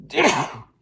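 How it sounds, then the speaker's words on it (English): A single short, breathy sneeze, close and fairly loud, ending abruptly. "Excuse me, I'm gonna sneeze."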